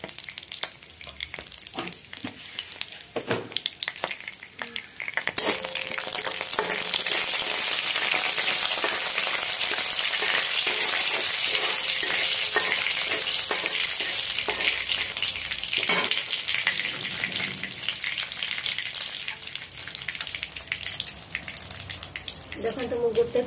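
Dry red chilies and cumin seeds fry in hot oil for an Odia potato chokha, giving a loud, continuous close sizzle that swells after the first few seconds, with occasional stirring clinks and a faint voice under it.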